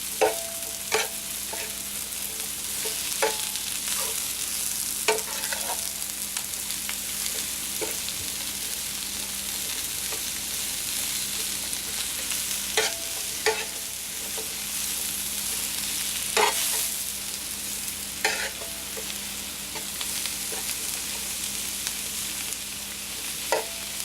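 Thinly sliced mushrooms and onions sizzle steadily in a hot pan through a stir-fry, with repeated sharp clatters and scrapes as they are stirred and tossed, and no voices.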